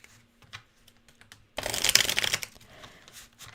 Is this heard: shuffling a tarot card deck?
yes